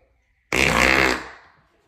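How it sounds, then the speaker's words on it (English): A single loud, close fart bursts out abruptly and rumbles for about a second before tapering off, surrounded by near silence. "Ain't no way you just fucking farting like that"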